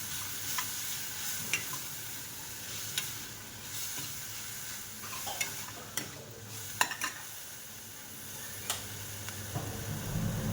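Tomatoes and coriander sautéing in a pan for a green mung bean bhaji give a continuous soft sizzle, broken by light scraping stirs and faint clicks of the spoon, with no voices.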